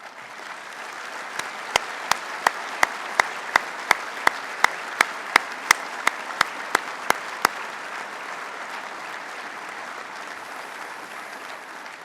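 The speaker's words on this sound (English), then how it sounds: "please stand and receive the applause that you so richly deserve" Convention audience applauding staff, a sustained steady roar of clapping, with a run of sharp, evenly spaced loud claps near the microphone in the middle section.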